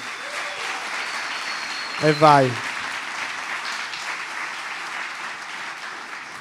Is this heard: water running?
no